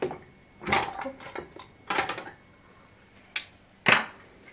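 Sterilized glass jars set one by one into a metal cooking pot, four separate clinks and knocks spaced irregularly, close and fairly sharp, with quiet kitchen background between them.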